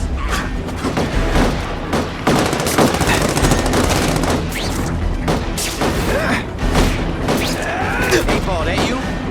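Dense, loud gunfire from The Amazing Spider-Man 2 game, rapid automatic bursts with booming impacts running continuously for several seconds, with voices over the shooting.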